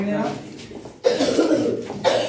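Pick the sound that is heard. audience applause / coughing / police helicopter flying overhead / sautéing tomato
coughing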